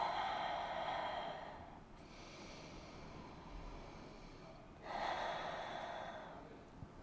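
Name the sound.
full strong breathing during yoga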